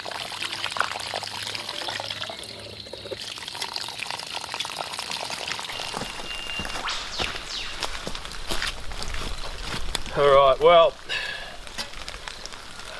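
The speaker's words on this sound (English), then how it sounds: "As you can probably hear, it's raining." Steady rain falling on a wooded camp among pine trees, a broad continuous patter close around, with a brief spoken phrase partway through.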